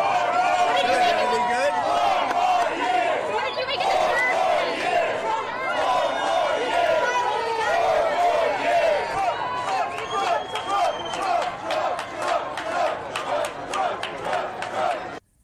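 A crowd outside a Harlem bodega chants in loud rhythmic unison, with overlapping shouting voices and a steady pulsing cadence building toward the end.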